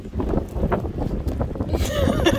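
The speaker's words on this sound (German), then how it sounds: "weil der Wind einfach echt zu krass ist" Strong sea wind buffeting a microphone on a beach, a continuous rough low roar with gusting surges that grow stronger toward the end.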